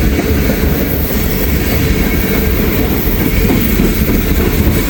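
A freight train of empty ethanol tank cars rolls past close by on a steep grade, a loud, continuous rumble with rhythmic clickety-clack of wheels over rail joints and no voices.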